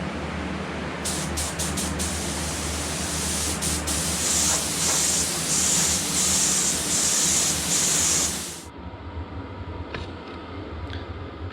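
High-build coats go onto a restored car fender in a spray-painting session: a loud, close spray-gun hiss runs in long passes with short sharp bursts, then stops, leaving a quieter compressor-like hum.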